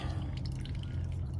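Water leaking past a closed gate valve in household plumbing drips and trickles steadily, a soft continuous wet patter over a low rumbling background, with no voices.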